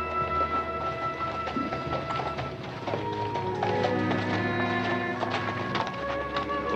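A horse's hooves clip-clop at a steady walking rhythm as a rider arrives carrying someone across the saddle, close and clear over an outdoor Western ranch scene, with no talk.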